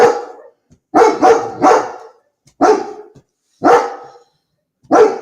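Close, loud dog barks come in short clusters of one to three, separated by brief silences.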